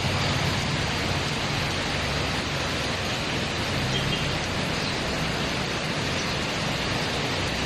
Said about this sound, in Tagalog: grabe yung lakas ng ulan guys